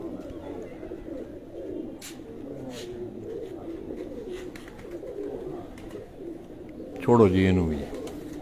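Pigeons coo in a loose series behind steady talk from men handling the birds, with a louder, nearer burst of cooing near the end.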